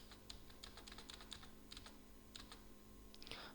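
Faint computer keyboard clicks during accounting entry work in Tally Prime, a scattering of light keystrokes with one key press near the end, over a steady low hum.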